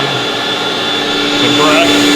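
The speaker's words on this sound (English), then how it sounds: "first I go on and turn on our suction" The suction motor of a carpet cleaning extractor runs as a loud, steady roaring whine close by, with a faint tonal hum underneath.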